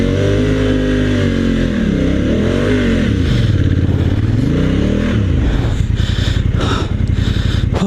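Adventure motorcycle on Kenda Paver Big Block 80/20 street tires digging into deep sand, the engine revving loud and close with rising and falling pitch, ending in a rougher, choppier throttle.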